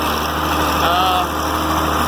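Tractor engine droning steadily at high revs while disking soybean ground, close and continuous for the whole stretch with no break in the sound.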